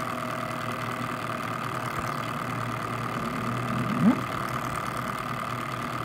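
A Regent Heyer stroboscope distributor tester runs at about 1000 RPM, producing a steady, even mechanical hum with a faint rise near the middle. No one speaks.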